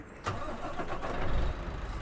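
A bus engine in a video game revs up and holds at a rough, mid-pitched drone, close and fairly loud for a couple of seconds.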